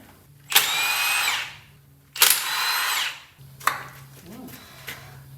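Power tool at work on an abandoned 1974 Ford F250 V8 engine, two sustained whirring bursts of about a second each followed by shorter clicks and taps, close up in a quiet setting.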